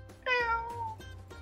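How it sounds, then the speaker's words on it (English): One clear, quiet cat meow with a rising then falling tone, heard alone. "Meow, meow."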